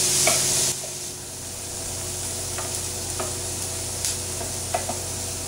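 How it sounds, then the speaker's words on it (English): Onions sauteing in a pan over medium-high heat give a steady close sizzle throughout, with a brief louder hiss at the start and a few light clicks and scrapes of stirring, and no voices. "So I'm going to saute these until they just start to get tender, but not brown."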